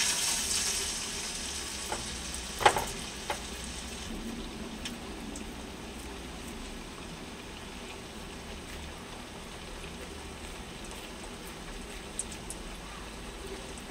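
Batter frying in a pan, the remaining batter added with a hole in the middle so it cooks through: a soft, steady sizzle throughout, with a few sharp clicks early on, moderately close and without speech.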